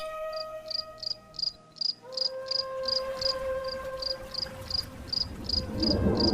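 Crickets chirp by a deserted river at night in a steady run of evenly spaced pulses, with sustained low tones underneath and a rising rustle near the end.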